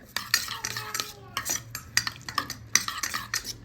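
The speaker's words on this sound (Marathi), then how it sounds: "हे एकदम व्यवस्थित मिक्स करायचं" A spoon briskly stirring oregano into a garlic butter mixture for cheese garlic bread, quick rhythmic clinks and scrapes against a bowl, close and clear, with no talking.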